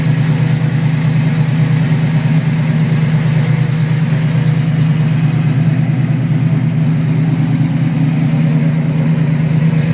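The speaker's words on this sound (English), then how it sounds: "a lot of that good sound coming from the headers, max flow exhaust" A Ford Gran Torino V8 with headers and a max flow exhaust idles steadily, a deep, loud, rumbling burble that holds constant and close for the whole stretch with no talking.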